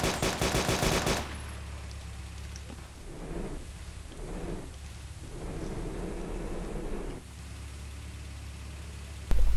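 Repeated gunfire aimed at a vehicle in a video game, heard as several rumbling bursts of shots across the middle of the stretch with a sharp blast at the start and another at the end.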